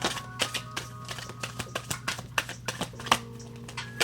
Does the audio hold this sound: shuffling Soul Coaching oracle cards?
yes